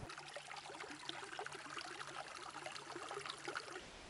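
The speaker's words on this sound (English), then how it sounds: "And right down there is a little creek." A small creek below a big sycamore tree in Arizona trickles and burbles steadily, faint and continuous with no voices.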